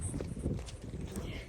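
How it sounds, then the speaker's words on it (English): Horses in rural Ireland, their hooves clip-clopping steadily and fairly close, heard under a continuous wash of background noise with no clear talk. "this is the sound of horses."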